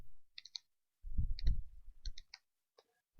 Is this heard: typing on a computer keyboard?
yes